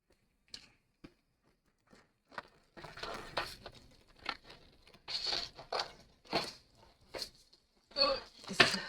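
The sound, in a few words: scissors cutting glitter paper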